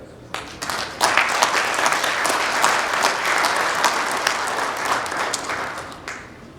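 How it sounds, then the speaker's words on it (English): Guests at a Dallas Korean Chamber business expo applaud the introduced dignitaries together, clapping rising quickly after a brief pause, holding as a full, close crowd sound, then tapering off. "I want to give them a round of applause together."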